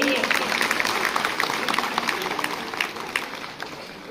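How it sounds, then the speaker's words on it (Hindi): Applause greets a guest at a school foundation day event, a crowd clapping steadily and gradually fading, with voices audible beneath it. "उनका स्वागत जोरदार तालियों के साथ कीजिए।"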